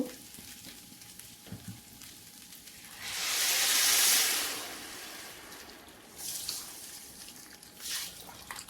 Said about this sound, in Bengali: চাল ভাজা হয়ে গিয়েছে গরম পানি দেব